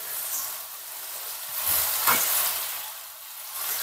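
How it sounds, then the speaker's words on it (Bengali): Eggs sizzle quietly in a pan, a soft steady hiss that swells briefly near the middle before settling, heard alone. "আজ একটা একটা করে ডিম দিয়ে নিব"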